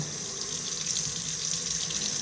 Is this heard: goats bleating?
no